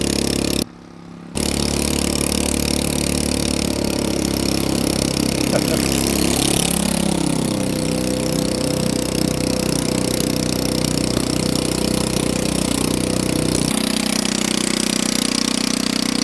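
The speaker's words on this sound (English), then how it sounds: "Yeah, that's the idle." A Honda Ruckus scooter with a fabricated rear frame idles steadily, a loud close putter with a constant rhythmic pulse after a brief dropout near the start.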